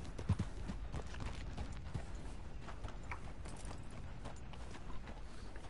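Horse hooves clip-clop steadily in the video game Red Dead Redemption 2, a continuous moderate-volume rhythmic trot over a soft ambient bed.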